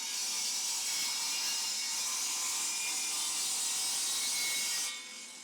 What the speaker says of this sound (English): let's have a look if I made the whole plunge from the front to the back of the board